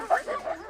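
Iditarod racing sled dogs bark and yip in a short, close burst of several quick calls, with a faint whine between them.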